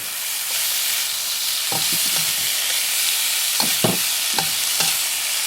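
Broccoli stir-frying in a hot pan gives a steady, close hiss of sizzling oil, with several short clattering stirs and scrapes of the spatula scattered through it; no one speaks.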